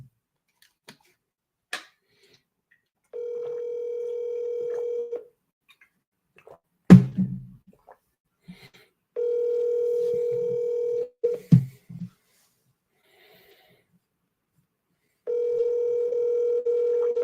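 An outgoing telephone call rings back three times, each a steady two-second electronic ring tone separated by long silences, with a few clicks and handling knocks between rings.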